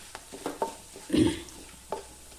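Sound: coconut, green chilli, onion and garlic paste added to pan and stirred

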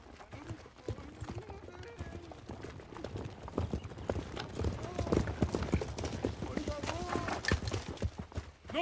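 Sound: horses' hooves clip-clopping

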